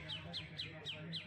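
Green leafbird (cucak ijo) calling in a shrike-like manner, five evenly spaced sharp, squawky notes repeating close by over a low background hum.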